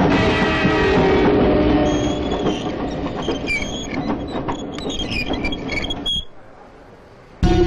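A passenger train sits at a railway platform with a continuous mechanical rumble and rattling clatter, scattered clanks and squeals. The noise drops to a quiet lull near the end, then a loud burst returns.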